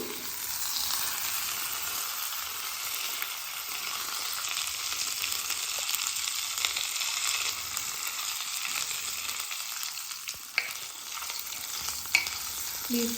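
Beetroot chutney being stirred and mixed in a pan, a continuous scraping, sizzling churn that runs steadily throughout with a few sharper clinks of the spoon near the end, no talking.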